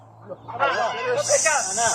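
During an animal-sound guessing game, a person's voice imitates a cobra's hiss, starting as a throaty, wavering vocal sound and ending in a sustained breathy hiss, close and fairly loud.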